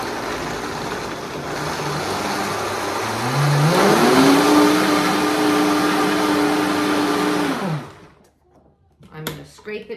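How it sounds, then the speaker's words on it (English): A blender purées vegan cheddar cheese sauce: the motor whirs, ramps up to a higher steady whine and runs loudly for several seconds before cutting off, followed by a few quiet clicks and handling sounds. "So I'm gonna blend this, and then we'll get into the magic"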